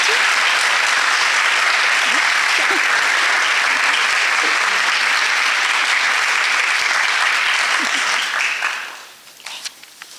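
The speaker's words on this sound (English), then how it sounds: "Let's have a huge round of applause for our award recipients." A school awards night audience gives sustained, dense applause for award recipients, loud and steady for about eight seconds before it trails off into scattered claps near the end.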